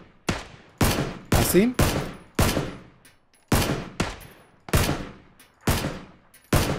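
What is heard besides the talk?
gunfire in video game PlayerUnknown's Battlegrounds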